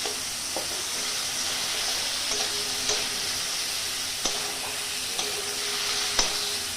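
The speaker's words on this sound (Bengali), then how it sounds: "হালকা হালকা ভাজা হবে, রসুনের কাঁচা গন্ধটা চলে যাবে, টমেটোটা হালকা ভাজা হয়ে যাবে" Garlic and tomato fry lightly in a pan for a momo chutney, giving a steady soft sizzle. Regular clicks and scrapes of stirring cut through it at close range, with no talking.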